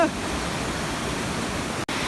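Steady broadband roar of a tall waterfall at Huaxi park, continuous and fairly close, with a brief cut near the end.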